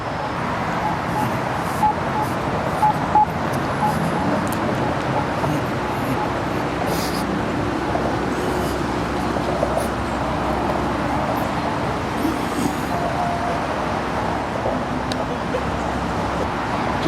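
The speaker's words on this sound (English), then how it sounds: "Just the usual traffic coming off the freeway" Steady urban traffic streaming off a freeway at the end of the day, a continuous dense roar of cars and larger vehicles passing nearby with no pauses, with no talk.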